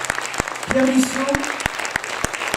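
Concert audience applauding, with sparse, sharp claps standing out over a light crowd murmur while a voice speaks over it.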